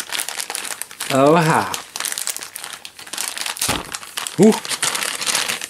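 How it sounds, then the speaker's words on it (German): A plastic bag of computer hardware parts gets rummaged through up close, with loud crinkling and rustling bursts while a man lets out short surprised exclamations. "Aber vorher noch in die Tüte gelugt."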